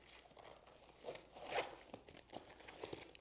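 A YKK zipper with a paracord pull runs along a Maxpedition EDC pouch, giving a quiet scratchy rasp with a few short zips and a louder pull in the middle, heard up close.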